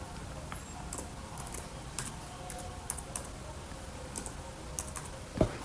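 Keys clatter on a computer keyboard as someone types text, a brisk irregular run of light close clicks with one louder tap near the end, no voices.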